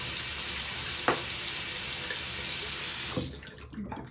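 Hot water runs steadily from a tap in a steady broadband rush, with a brief clink partway through before the flow cuts off and a few soft clatters follow.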